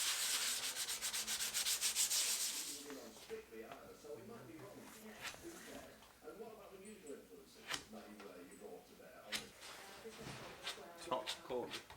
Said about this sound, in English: Now that all the fiberglass repair had set, we could sand it back, get it filled and finished.